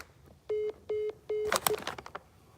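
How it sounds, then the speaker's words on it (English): A phone sounds three evenly spaced, identical dialing tones, followed by a quick burst of clattering electronic beeps and clicks, moderately loud and close against a quiet background. "your phone makes all kinds of noises"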